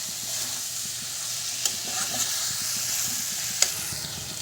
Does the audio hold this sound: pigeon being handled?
no